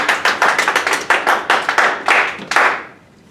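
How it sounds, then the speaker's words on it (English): A small classroom audience at a physics lecture claps in a burst of sharp, distinct hand claps, close and lively, then fades out quickly near the end. "Clap for Elise, please."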